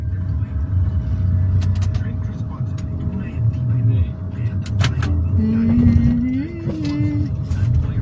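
Road traffic passes by, with a loud rumbling low drone of vehicle engines, a rising and falling motor whine near the end, and voices talking over it throughout.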